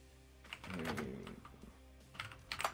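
Quiet, rapid keystrokes on a computer keyboard during an online game session, tapping in a quick irregular burst and then a short flurry near the end, soft and close.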